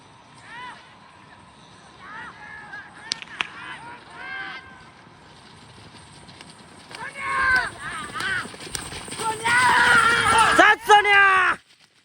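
Bullocks' hooves pound by in a bullock cart race amid loud shouting from a crowd. The noise swells into a roar toward the end, then cuts off.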